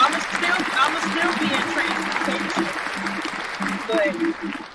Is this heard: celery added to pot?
no